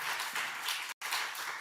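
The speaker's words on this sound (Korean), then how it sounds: "우리의 찬양을 받으실 하나님께 박수로 영광 올려드리겠습니다" Applause from a church congregation during a Sunday service, a steady broadband wash of clapping that breaks off for an instant before resuming.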